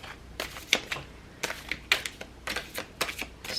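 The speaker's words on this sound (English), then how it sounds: "I'm gonna look at the cards while I shuffle" Tarot cards shuffled in the hands during a pick-a-card reading, heard as a series of sharp, close riffling bursts roughly every half second to second, with no talking.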